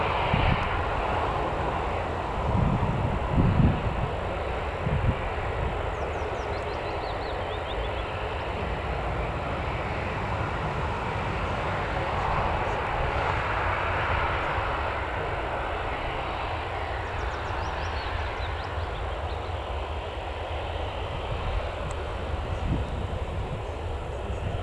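Jet2 airliner pushing back at Newcastle Airport, a continuous distant engine rumble and whine holding steady across the whole stretch, heard from afar with no voices.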